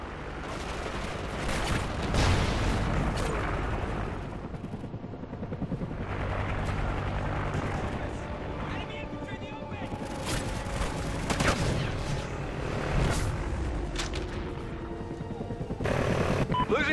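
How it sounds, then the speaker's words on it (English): Helicopter arriving amid a dense battlefield in a military shooter video game, with rotor thrum under sustained loud bursts of rifle and machine-gun fire and explosions throughout. "Friendly chopper inbound."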